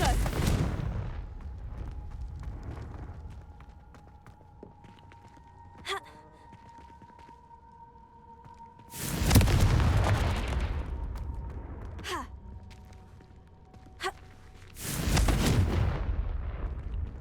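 Confringo explosive spell blasts in the Hogwarts Legacy video game, three loud booming bursts with rushing decay, spaced several seconds apart over a steady game ambience with a faint tonal hum and sharp clicks between them.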